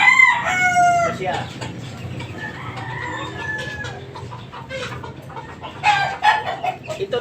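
Chickens and a rooster kept by a breeder cluck and crow close by, with a loud crow at the start and repeated clucks and calls throughout. Faint talk runs underneath.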